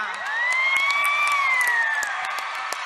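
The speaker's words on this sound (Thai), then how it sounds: "เรียกเสียงกรี๊ดได้ดังสนั่นนะครับ" A large crowd screams and cheers loudly and continuously at a dance performance during the Nine Entertain Awards 2015, with a high shrill shriek riding over the roar throughout.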